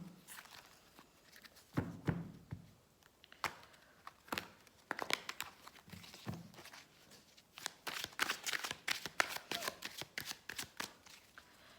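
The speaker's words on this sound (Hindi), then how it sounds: "अब मैं राइडर वेट से कार्ड्स निकालूंगी जो कि हर एक कार्ड के अगेंस्ट 3 कार्ड्स होंगे" Rider-Waite tarot deck being shuffled and cards drawn by hand, soft papery riffles and flicks in uneven bursts, growing busier and denser toward the end, with no talking.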